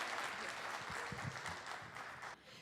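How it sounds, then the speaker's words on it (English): Soft, distant applause fills a main-stage conference session hall, then cuts off abruptly near the end with a muffled voice faintly underneath. "so let's clap and give her some energy"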